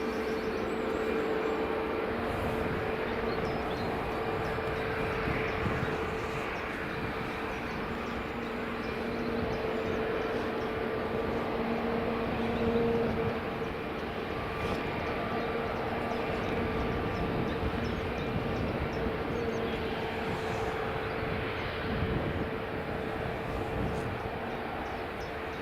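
Jet2 airliner on its takeoff run at Edinburgh Airport, a distant, steady jet roar that swells slightly and holds for the whole stretch, fairly faint and without talk.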